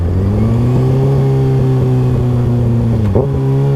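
A motorcycle engine drones steadily as the throttle is let off to downshift, its pitch dipping slightly near the end, loud and close with no talk.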